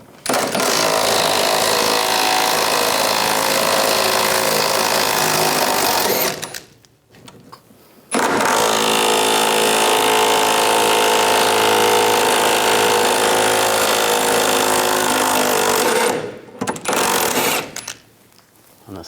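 A power tool with a 21mm socket whirs and rattles as it backs out the bottom rear bumper bolts on a 1999-2006 Chevrolet Silverado 1500, in two loud, sustained bursts separated by a brief pause.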